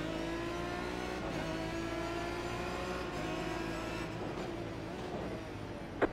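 A field of Aston Martin DBR9 GT1 race cars roars off the line at a Donington race start in a video game, a dense, steady engine drone with layered revs, continuous and loud throughout with no talk.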